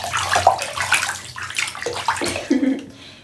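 Water splashes and sloshes as a ferret is bathed, close and busy throughout, with a person talking over it.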